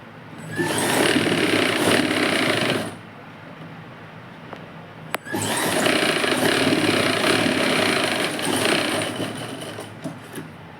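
A sewing machine stitching fabric for a hook patti, running in two steady whirring bursts, the second longer, separated by a quiet pause with a single sharp click.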